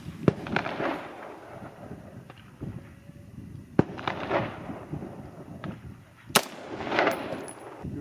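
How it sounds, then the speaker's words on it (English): .308 rifle rounds are fired at a Level III lightweight ballistic plate outdoors: three sharp, loud cracks spaced a few seconds apart, each trailed by a rumbling echo and background noise. "Here's the second round of the 308."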